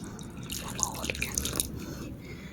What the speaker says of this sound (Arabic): علشان بس اسيحه هضيف عليه بس شويه من الماء المغليه